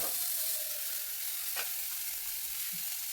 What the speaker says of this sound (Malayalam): പകുതി ഇപ്പോൾ ഇതിലേക്ക് വഴറ്റിയെടുക്കാൻ ഇട്ട് കൊടുക്കുകയാണ്